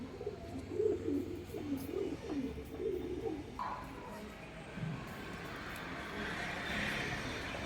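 Pigeons coo softly in a run of low, repeated calls early on, then fade as faint traffic noise carries on in the background.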